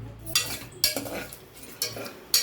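Cashews stirred in a pan with curry leaves during home cooking: a spoon scrapes and knocks against the metal pan in four distinct strokes, close and moderately loud.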